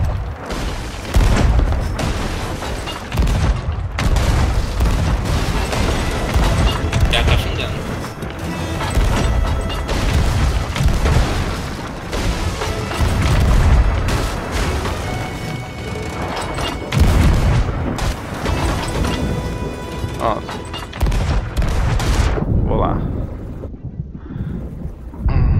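Continuous loud booms and crashing gunfire from the Sea of Thieves pirate video game, dense and overlapping blasts with mechanical clatter filling nearly the whole stretch before a brief drop near the end.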